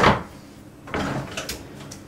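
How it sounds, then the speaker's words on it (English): A Sub-Zero drawer freezer in a yacht galley slides with a close, short thump at the start, then a rolling scrape and soft clunk as the drawer moves and settles, without any talk. "Below the oven, we have the Sub-Zero drawer freezers. There are four drawer freezers on board."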